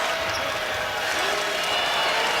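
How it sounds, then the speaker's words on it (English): Basketball dribbling on the court during a Creighton vs. Butler Big East men's game in Omaha, heard as steady bouncing within the continuous roar of a lively arena crowd. "Baldwin pwned in the dribble with Jones stepping out on him"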